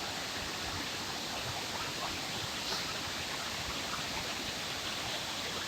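Courtallam's main waterfall pours down heavily in a dense, steady roar of falling water that stays unbroken and even from start to end, with no voices.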